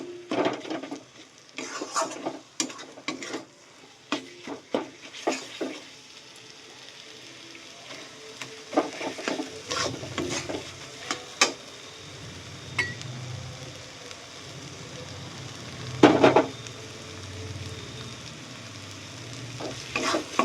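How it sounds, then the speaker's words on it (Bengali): Spice masala for veg ghugni is stirred and sautéed in a pan, with a soft, steady frying sizzle broken by scraping spatula strokes and an occasional clink against the metal. "মশলাটা এখানে ভালো করে কষা হয়ে গেছে আমার"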